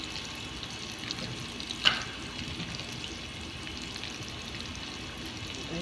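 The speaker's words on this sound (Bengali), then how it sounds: "মাংসটা ভালোভাবে ভাজা হয়ে গেছে আর টমেটোগুলো গলে গেছে একবারে" Meat and tomatoes fry in a pan, giving a quiet, steady sizzle with one brief clink, heard alone.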